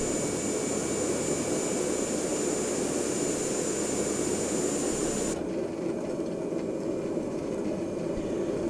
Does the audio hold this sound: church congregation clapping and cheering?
no